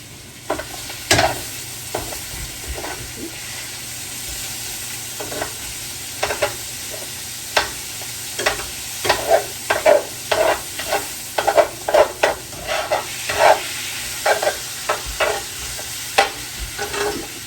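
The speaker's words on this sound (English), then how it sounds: "So let me just give the bacon a stir over here." Bacon frying in a pan on a breakfast stove, with a steady sizzle under a series of sharp scraping stirs that come in quick bursts through the middle and end, close and fairly loud, no talking.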